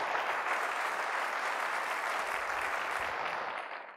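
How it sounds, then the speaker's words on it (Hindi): A church congregation claps loudly and continuously, dense even applause that holds steady before fading out at the end. "आज जोरदार तालियों से खुदा के नाम की जय, जोरदार जोरदार आसमानों तक आपकी ताली की आवाज।"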